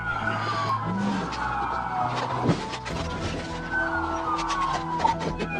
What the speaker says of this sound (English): The maneuver caused the vehicle to spin, hit the deputy's car, and come to a stop perpendicular to the roadway.